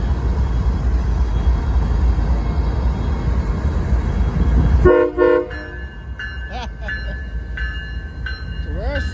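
Freight locomotives, including an ES44 and a BNSF unit, roll past on a Canadian Pacific line with a loud, steady rumble that cuts off abruptly, followed by tonal horn-like and squealing sounds.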